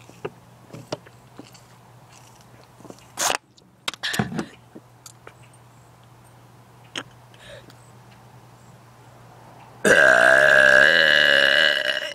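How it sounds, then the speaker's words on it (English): A person lets out a long, loud burp near the end, after several brief mouth and swallowing noises over a low steady hum. "I can really burp."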